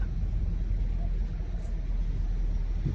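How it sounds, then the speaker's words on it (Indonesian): Steady street traffic noise with cars passing, a continuous low rumble at moderate distance and no distinct pass-bys, with no one talking. "Dan banyak mobil di sini."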